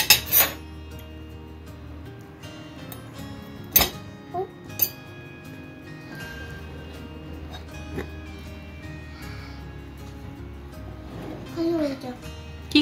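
Cutlery clinks against a plate as dosa is eaten with a fork and knife at a home dinner, several sharp metallic taps scattered over the meal with quiet background murmur and occasional soft voices.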